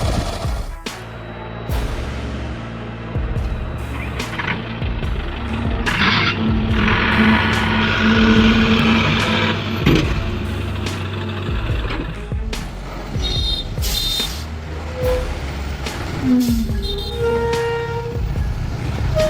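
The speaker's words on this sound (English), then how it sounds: "An overloaded tractor trailer was approaching the pass. The engine was roaring heavily" An overloaded tractor trailer labors toward a mountain pass, its engine roaring heavily as a continuous, mid-distance rumble with a few brief horn-like tones and mechanical clanks, no voices.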